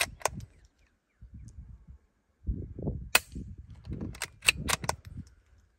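A .22lr rifle fitted with a Nelson Precision Little Spoon silencer fires into dirt outdoors, a few quiet, sharp suppressed cracks among faint handling noise and low rumble, close by.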